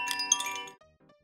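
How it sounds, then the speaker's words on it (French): A child's small toy chime rings with bright tinkling tones that fade within a second, followed by a faint extra ding, close and quiet. "j'ai le petit carillon de ma fille là"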